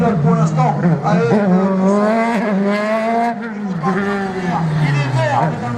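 Rally car on a slalom course at Agon-Coutainville in 2024, its engine revving up and dropping back as it accelerates and brakes, heard loud and continuous under excited commentary.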